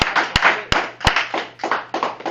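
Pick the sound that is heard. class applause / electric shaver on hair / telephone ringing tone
class applause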